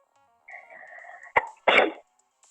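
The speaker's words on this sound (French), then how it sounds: "Oh non, j'ai éternué, c'est chiant ça." A single close, sharp sneeze, preceded by a short sustained tonal electronic sound from a game and a quick click, then silence.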